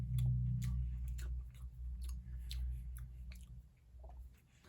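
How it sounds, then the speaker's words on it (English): Crunchy bread chewed close up, a steady run of crisp bites and mastication with soft squishy textures, no talking. "That bread has the perfect crunch."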